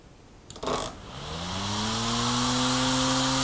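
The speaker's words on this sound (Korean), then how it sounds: "두 개가 연결돼 가지고 모터 들어가고 끄면은 모터가 꺼지고" A small handheld electric motor clicks on through a relay and spins up, its whine rising in pitch over a couple of seconds and then holding steady, close and alone without talk.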